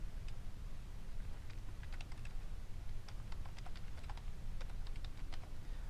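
Rapid, irregular clicking of a computer keyboard being typed on, close but soft, over a low background hum.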